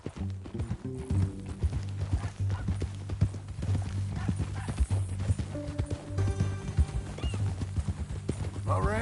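Horse hooves clip-clop steadily at a walk in Red Dead Redemption 2, close and continuous beneath men's conversation, with a brief whinny near the end.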